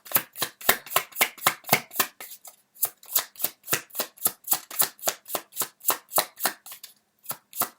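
Tarot cards being shuffled by hand, close and crisp, a fast regular riffle of about two dozen flicks with a couple of brief pauses, no voices.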